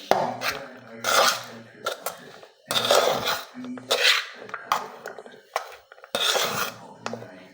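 Spoon scraping and clinking against a pot while leftover rice is mixed with grated coconut, in bursts of scraping strokes with short pauses, close and moderately loud.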